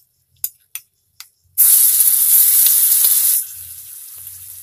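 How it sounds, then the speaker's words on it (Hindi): Garlic paste hits hot oil with bay leaves for Punjabi chole masala and bursts into a loud, sustained sizzle after a few light taps, the hiss then easing to a softer, steady frying sound. "अभी हम इसमें लहसुन की पेस्ट ऐड कर देंगे,"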